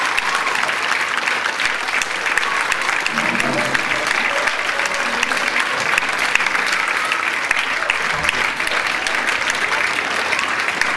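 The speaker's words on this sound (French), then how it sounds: "Je crois qu'on peut encore les applaudir bien fort pour cette belle surprise" An audience at a thank-you gathering breaks into sustained, loud applause from many people, a continuous roar of clapping with faint voices mixed underneath.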